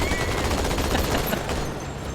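Fireworks emote going off in the Halo 2 video game, a continuous dense crackle of rapid popping bursts that fills the whole stretch at steady loudness, with no talking.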